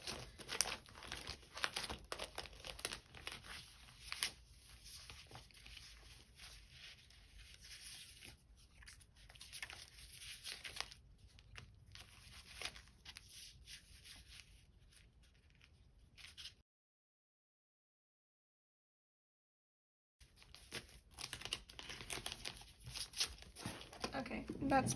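Sheets of reading stickers are handled up close, giving soft, intermittent crinkles and rustles of paper under a person's quiet talking, with a short silent gap near the end.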